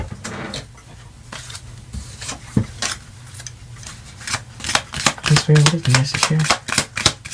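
A deck of tarot cards is shuffled in repeated crisp riffling bursts, close and fairly loud, while a person talks over the shuffling.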